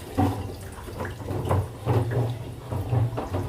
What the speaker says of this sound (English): Don't worry with the background noise from back. It's my sister washing outside.